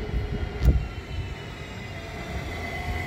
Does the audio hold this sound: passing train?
yes